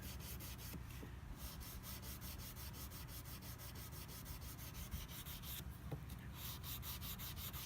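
Close, rhythmic back-and-forth sanding of guitar frets, a steady scratchy rubbing repeated in quick strokes, faint and alone with no talk.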